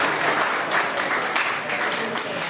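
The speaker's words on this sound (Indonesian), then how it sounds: "tepuk tangan tuh semuanya" An audience at an Islamic religious gathering commemorating Isra' Mi'raj breaks into applause, a short burst of many hands clapping with some chatter mixed in, fairly close and steady for a couple of seconds.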